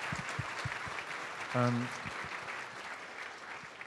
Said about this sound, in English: please give one more round of applause for Brother Mahmoud